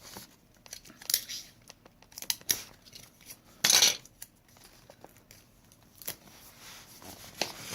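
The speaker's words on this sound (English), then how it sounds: "Just try to cut them both about the same" Scissors snip through wrapping paper while a gift basket is being wrapped, a few crisp cuts and a loud rustling crinkle of paper midway, close and otherwise quiet.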